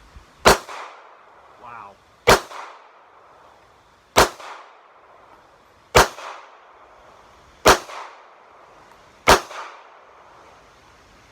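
An M&P BodyGuard 380 pistol fires six sharp, loud shots at a target about 18 feet away. They come at an even pace roughly two seconds apart, each with a short ringing tail, and a single brief exclamation comes between the first shots.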